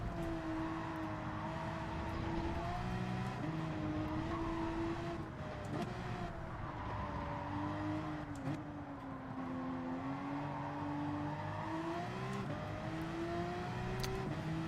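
A Porsche race car in Gran Turismo 7 drones steadily and close throughout, its engine pitch rising and dipping with gear changes and corners, with no talk over it.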